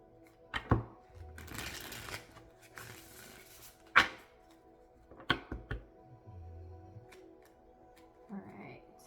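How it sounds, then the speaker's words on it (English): A deck of tarot cards is shuffled in several short bursts of riffling and snapping, with a few sharp taps in between and quiet pauses. A faint voice is heard briefly near the end. "All right, one more shuffle."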